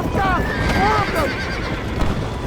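Horse whinnies from the video game Red Dead Redemption, several rising-and-falling neighs in quick succession over a busy, steady game soundscape with low rumble and possible hoofbeats.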